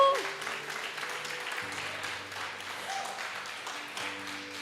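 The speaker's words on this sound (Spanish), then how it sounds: "Denle un aplauso al Señor Jesús." A church congregation applauds during a sermon, soft and fairly distant, with sustained keyboard-like tones humming underneath.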